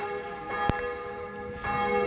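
Church bells ring right beside a house, clear resonant tones with a lingering hum and a sharp knock near the start, loud and close with no one talking.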